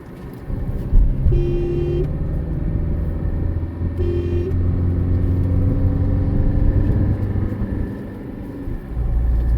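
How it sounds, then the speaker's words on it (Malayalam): A vehicle on a hill road in Kerala, engine rumbling steadily close by for several seconds while its horn gives two short toots. "കുന്നംകുളത്ത് വന്നിരിക്കുന്ന ഒരു വണ്ടിയാണ് കെ എൽ ഫോർട്ടി സിക്സ്"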